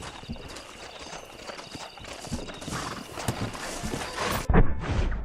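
Steady clip-clop of horse hooves trotting at a regular rhythm in the video game Red Dead Redemption, fairly close, with a brief louder thump near the end and no talking.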